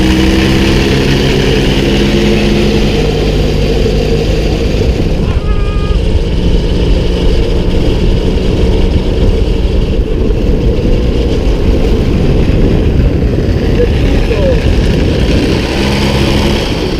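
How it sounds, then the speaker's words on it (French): An early Motobécane AV88 moped engine drones loud and steady while riding, with a constant buzzing two-stroke note and wind rush throughout. "C'est la première fois que je roule sur les premières générations d'AV88."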